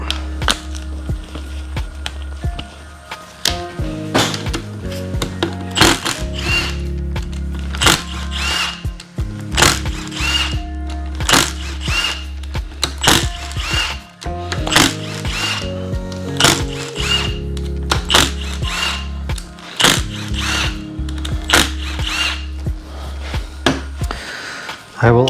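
A ratchet works loose the cam cap bolts on a Yamaha YFZ450R engine during disassembly, clicking in repeated bursts against a low steady hum, loud and close, with short pauses between runs.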